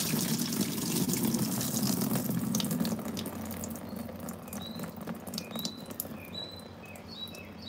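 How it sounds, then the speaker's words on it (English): Water pours out of a plastic bin in a steady splashing stream, and small drips and trickles follow as the flow tapers off near the microphone. "And you can pour the water out this way."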